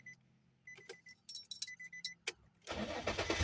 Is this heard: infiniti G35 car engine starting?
yes